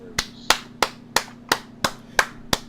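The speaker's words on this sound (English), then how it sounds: "Round of applause for the man." Eight slow, evenly spaced sharp claps of applause ring out one after another, crisp and close, with no talking over them.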